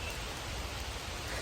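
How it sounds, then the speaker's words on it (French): Rain begins to fall in a forest, a faint, even hiss of drops on leaves and ground, steady and soft with no voices. "il se met à pleuvoir"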